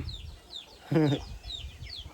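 Free-range chickens raised naturally on a rural Thai farm cluck in a short burst in the middle, with faint chirping birds and quiet farmyard ambience around them.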